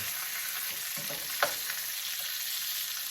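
Bacon fries in a pan with a steady close sizzle, scattered crackles and pops, and one sharper pop partway through, with no voices.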